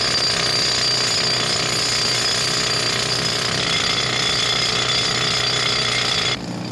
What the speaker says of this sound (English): That was aiming, drilling the holes.